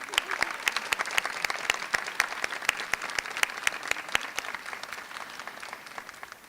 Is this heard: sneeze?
no